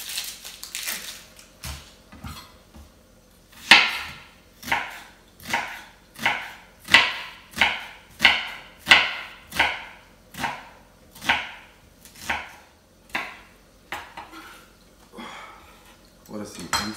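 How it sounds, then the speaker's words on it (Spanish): A knife chopping an onion finely on a board, with about twenty crisp, evenly spaced strikes in a steady rhythm, close and fairly loud, over faint background noise. "vamos a picar la cebolla bien picadita"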